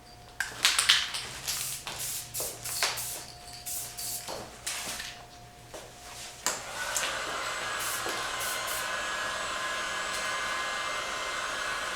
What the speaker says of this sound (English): We're gonna use a heat gun to help tack it and speed cure some stuff.